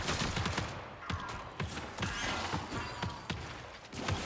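Rapid gunfire crackles in the video game ARC Raiders, a fusillade of sharp, distant-sounding shots in irregular bursts over a busy, noisy backdrop.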